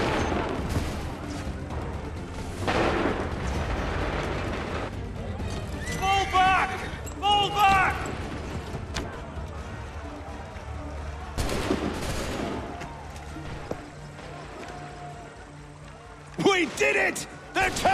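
Musket volleys in Assassin's Creed 3 on a battlefield: repeated bursts of gunfire and booming shots amid shouted orders and crowd clamor, with quieter gaps between the volleys.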